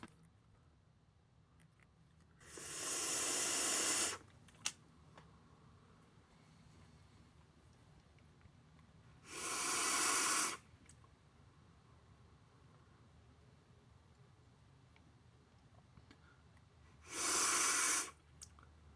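Three long inhales on a Wotofo Troll RTA vape at 85 watts with the airflow fully open, each a loud breathy hiss of airflow lasting one to two seconds, spaced several seconds apart over a quiet background.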